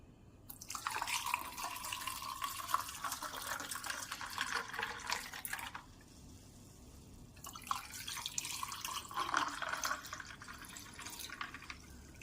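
Lime juice, strained, pours in a steady stream into a glass, stops briefly, then pours again, a close, trickling splash.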